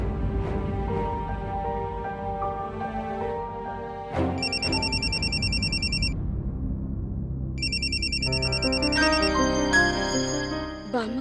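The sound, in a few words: phone ringing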